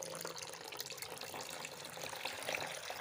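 Running water poured or flowing steadily from a tap for about three seconds, measured out as half a litre for pickling turnips with beetroot and lemon juice; a continuous close splashing wash with no voices.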